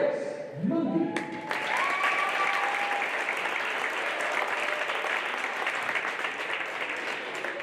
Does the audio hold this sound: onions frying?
no